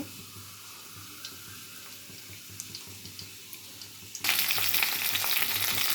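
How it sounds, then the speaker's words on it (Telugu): Spices for tempering hit hot oil in a pan for a drumstick curry, setting off a sudden loud, steady sizzle after a quieter stretch of faint kitchen noise, with no talk. "నూనె పోసుకున్నాను తాలింపులు వేసేస్తున్నాను"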